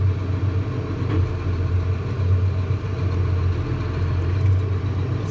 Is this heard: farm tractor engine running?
yes